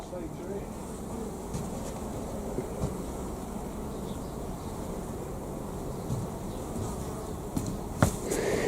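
Honeybees on a comb buzz around a beekeeper in a continuous low, faint drone, with a few small clicks and knocks near the end.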